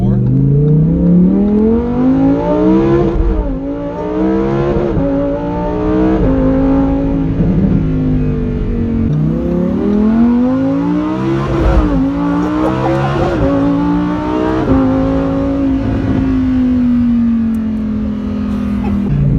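A Lamborghini Huracan Performante accelerates hard, its loud engine note repeatedly climbing and then dropping at each upshift across a long run of gears.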